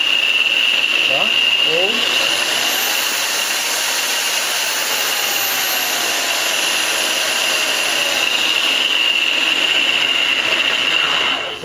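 A handheld electric power tool whirs steadily at a controlled low speed for grinding work, a constant mechanical hum with a high whine running throughout, close and loud, with no pauses.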